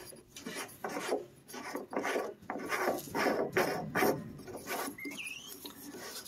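Reverse-threaded fitting on a 55-gallon water barrel being hand-tightened, a run of close, rhythmic plastic scraping and rasping strokes, each grinding turn a short burst, ending in a faint squeak.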